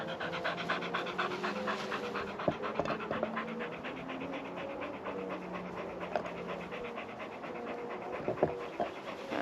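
A dog pants steadily and rapidly up close, a continuous rhythmic huffing that runs the whole time with a few faint clicks.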